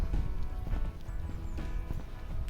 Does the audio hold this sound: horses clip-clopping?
yes